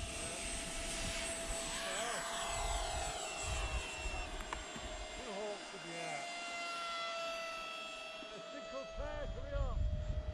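A small electric ducted-fan model jet painted as a Red Arrows Hawk takes off with a thin, high whine that shifts in pitch as it passes, while people talk nearby outdoors.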